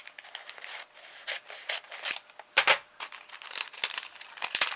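Paper is snipped and crinkled with scissors while a small paper rosette decoration is made, giving a busy, close run of short rustling cuts and crackles.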